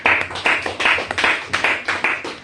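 A church congregation applauds to acclaim Jesus Christ with close, loud, rhythmic clapping that rises and falls in regular bursts about twice a second.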